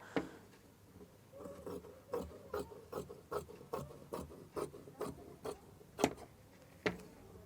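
Scissors cutting fabric for a sleeve pattern, a series of about a dozen short, crisp snipping rasps in an irregular rhythm, close and fairly quiet, with no talking.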